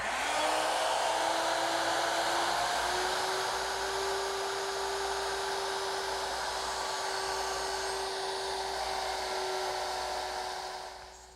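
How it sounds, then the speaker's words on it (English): A woodworking router fitted with a 1/4 inch bit cuts mortises into table legs, giving a loud, steady high-pitched whine that holds for about eleven seconds with little change, then winds down at the end. "I've changed the bit to 1/4 inch, and I'll just mortise each of the legs."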